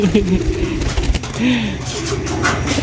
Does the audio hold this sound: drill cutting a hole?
no